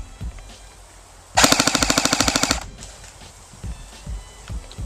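A Dboys airsoft gun on a 7.4 volt LiPo battery fires one full-auto burst of about a second, a fast, even rattle of roughly a dozen loud mechanical cracks, with quiet room noise and light clicks before and after.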